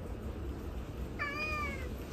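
A single drawn-out cat meow rises and falls midway through, fairly close, over a steady low background hiss with no talking.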